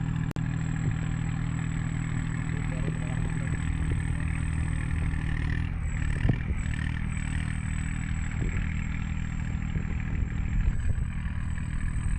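A tractor engine runs during a stunt, holding a steady, loud idling drone with a thin high whine, and no voices over it.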